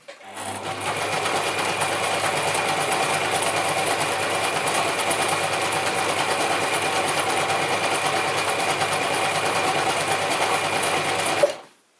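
A Gritzner 1002 or Pfaff 307 sewing machine stitches continuously for about eleven seconds at a medium-to-long stitch length, giving a steady, close mechanical whir that stops abruptly.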